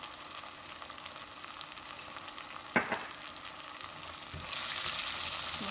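Ground coriander and cumin powders sautéing briefly in hot oil for a village-style Tamil fish curry, a steady soft sizzle with a sharp clatter of stirring midway and a louder hiss swelling near the end.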